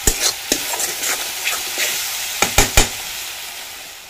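Spice paste for chicken curry sizzles in a pot on a low-heat wood-fired stove, broken by loud, close scraping stirs in an uneven rhythm.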